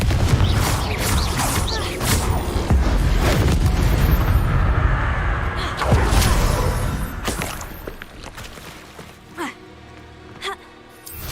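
A Confringo fire spell explodes in the Hogwarts Legacy video game with a heavy boom, then crashing debris and scattered impacts that fade into sparse clatters and rumbles.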